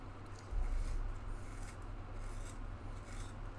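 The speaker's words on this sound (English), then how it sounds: "So we'll try the Prismacolor Sharpener again." A Prismacolor sharpener grinding a colored pencil, a quiet steady rasping scrape that runs continuously and close up.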